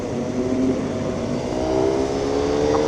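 Motorcycle engine running steadily and loud on a rough road, a continuous close drone with a slight rise in intensity toward the end; no talk over it.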